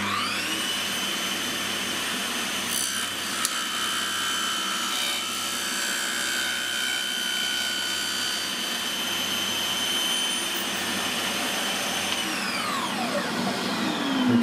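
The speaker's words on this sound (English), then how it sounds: "I'm going to make a flat surface by just making it a little bit narrower using the table saw." A table saw cuts a piece of wood down to a narrower width, giving a loud continuous whining roar that holds for the whole stretch and winds down at the end.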